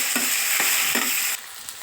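Dried red chillies and curry leaves fry in hot oil with a dense, bright sizzle, broken by a few soft stirring scrapes before the hiss drops quieter.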